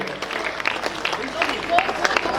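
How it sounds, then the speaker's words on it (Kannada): An audience claps for the children who performed a Chandragupta Maurya play at a Shivaratri skit event, a steady wash of applause that continues throughout. "ಇನ್ನೊಮ್ಮೆ ಎಲ್ಲರಿಗೂ ಜೋರಾಗಿ ಚಪ್ಪಾಳೆ"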